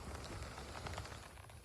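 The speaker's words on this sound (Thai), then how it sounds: "ฝนนะคะทุกคน" Soft, steady patter of heavy rain on a surface outdoors, faint and continuous, with no voices.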